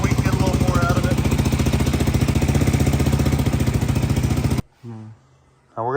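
A Honda 400EX engine swapped into a Polaris RZR 170 runs with a loud, rapid, steady engine chatter close by, then cuts out abruptly near the end, leaving a voice talking.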